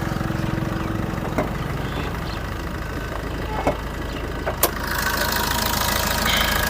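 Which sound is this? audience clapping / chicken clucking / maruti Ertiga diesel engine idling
maruti Ertiga diesel engine idling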